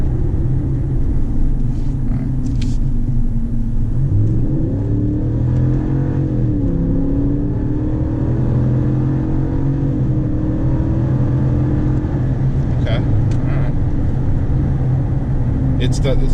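A 2019 RAM 1500 pickup fitted with a Pulsar performance tune accelerates hard, its engine rumble rising and climbing in pitch as the truck pulls away, steady and close throughout with some talk over it.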